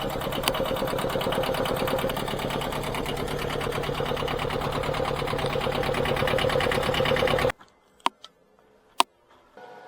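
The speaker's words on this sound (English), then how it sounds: "the next step is to fire up the engine and look to see where the leak" A boat's engine runs with a fast, steady mechanical chatter for about seven seconds, then cuts out abruptly, leaving near silence broken by a couple of sharp knocks. The boat is anchored in a cove with a flooded bilge.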